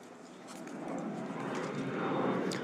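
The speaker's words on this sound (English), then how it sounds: "Wait, do I hear a cargo plane?" Cargo plane flying overhead, a broad engine roar that swells gradually louder and nearer across the stretch, heard with a few faint background clicks.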